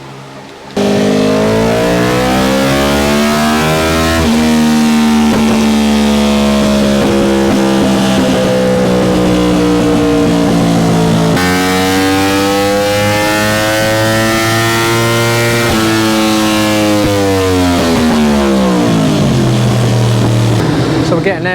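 A Yamaha R1M sportbike with an ECU remap runs on a dyno, its engine howling loud and close in long rising and falling revs that sweep up and down for the whole stretch.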